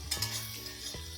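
Capsicum frying with spices in hot oil in a pan for a meat dish: a brief burst of sizzling with two quick scraping stirs of a spoon against the pan.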